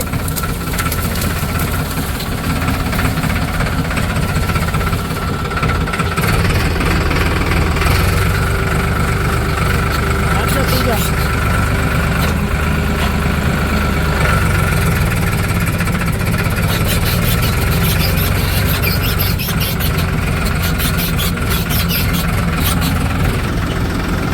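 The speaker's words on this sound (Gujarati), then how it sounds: "ટ્રેક્ટર અહીંયા જ રાખ દેજે" A Farmtrac tractor engine idles close by, a loud, steady mechanical rumble with a continuous knocking vibration that holds without break.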